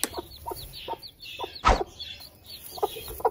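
An Aseel hen clucks softly in short repeated bursts, close by, with one sharper louder squawk in the middle and quiet pauses between.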